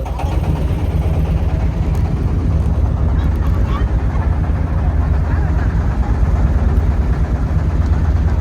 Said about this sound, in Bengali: ট্রলারে ওঠার কিছুক্ষণ পরে ট্রলার স্টার্ট দিল